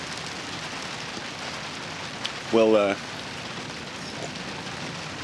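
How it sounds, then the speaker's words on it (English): Steady rain falls outdoors, a continuous broadband hiss of drops on surfaces that holds evenly throughout, with a brief spoken word from a nearby man partway through. "It's raining out here pretty good."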